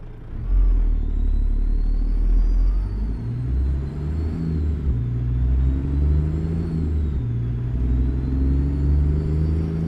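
A super heavy haul truck engine in American Truck Simulator rumbles steadily at light throttle, a loud, deep, continuous drone with slight rises and falls in pitch, heard alone without talk.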